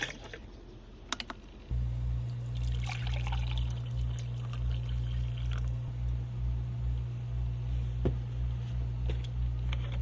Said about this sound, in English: We get water in the bath.